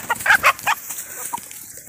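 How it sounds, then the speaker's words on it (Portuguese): Chickens on a countryside farm cluck in a few short, close bursts, then quieter scratchy farmyard noise follows, with no talking. "um homem tratando umas galinhas aqui"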